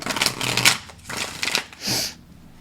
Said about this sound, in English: Let's shuffle that up one more time.